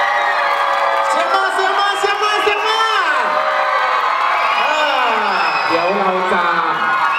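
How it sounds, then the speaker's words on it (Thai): A university education-faculty freshy boy and girl contest audience cheers loudly for 32 contestants on stage, with a dense, continuous roar of voices, whoops and shouts that runs the whole time without letting up. "ขอเสียงเชียร์ดังๆให้กับ32ท่านบนเวทีนี้ด้วยครับ"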